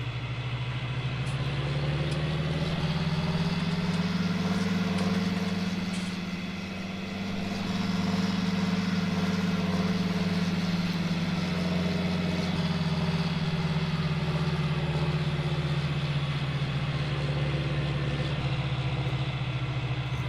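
A farm tractor engine idles steadily and close, a low droning hum with a constant rhythm that dips briefly in the middle before settling back, with no voices.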